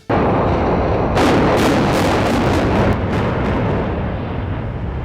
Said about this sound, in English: A deafening explosion ripped through the air.